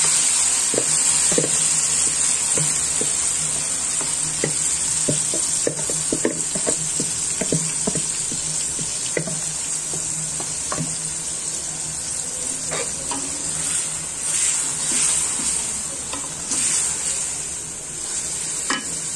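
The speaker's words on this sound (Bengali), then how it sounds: "আমার তেলটা হালকা গরমে আসছে, এখন আমি চিকেনটা সম্পূর্ণভাবে" Yogurt-marinated chicken for Arabian biryani frying in lightly heated oil hisses in a loud, continuous sizzle, broken by repeated scraping stirs and small pops throughout.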